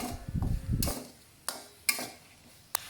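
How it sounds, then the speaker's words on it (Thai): Eggs stir-fried in a pan with tomato ketchup, soy sauce and sugar, with soft scraping and sizzling at first, then a few sharp utensil knocks against the pan, fairly quiet. "แล้วเราก็จะผัดให้เข้ากันเลยนะคะ"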